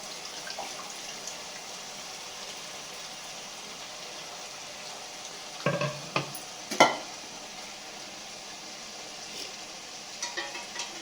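Mint leaves and biryani masala for chicken biryani sauté in a pan, a faint steady sizzle with a few sharp stirring clatters partway through.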